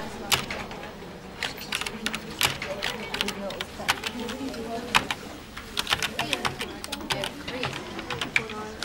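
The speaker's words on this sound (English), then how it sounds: "No, I'll type it." Someone touch-typing an assignment on a computer keyboard, quick irregular clicks and key taps in bursts, close by, with voices talking over the typing at times.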